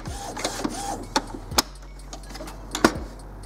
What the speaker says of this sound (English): your printer will check the cartridges, make sure it's happy